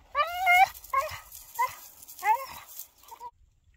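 Two spaniels, a puppy and an older dog, give a run of high whimpers and short yelps in uneven bursts, close by and fairly quiet on a camping and fishing trip.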